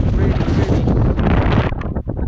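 Strong wind on a cold mountain summit in the Black Mountains, Wales, buffets the microphone in a steady roaring rush, close and loud, easing off briefly near the end.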